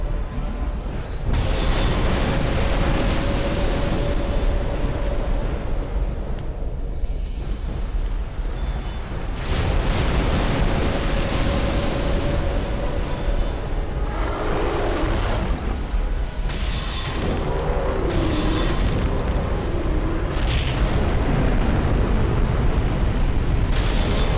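Old Iron King boss in Dark Souls 2 unleashing a fire breath attack: a loud, sustained roaring, booming rush of flame with rumbling bursts filling the whole stretch, no talking.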